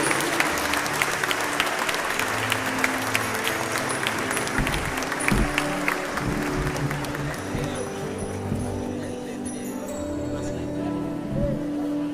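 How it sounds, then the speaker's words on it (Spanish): Audience applause at a municipal council event, sustained dense clapping that stays strong for several seconds before tapering off, with some voices mixed in. "Damos un fuerte aplauso nuevamente por el presente."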